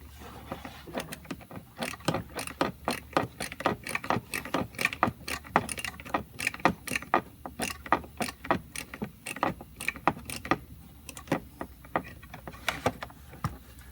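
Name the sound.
small ratchet loosening a bolt on a truck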